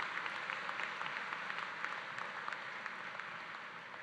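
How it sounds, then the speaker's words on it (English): Graduation ceremony crowd at a technical school gives a round of applause, a continuous even patter of many hands with a few sharper nearby claps, heard alone at moderate distance. "Let's give them all a round of applause,"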